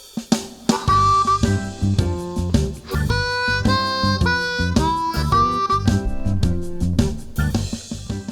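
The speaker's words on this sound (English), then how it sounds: "Here is the lick we are going to learn." A blues lick played on a C harmonica rings out in a run of bright, sustained reedy notes that shift pitch over a steady low backing, loud and continuous for several seconds.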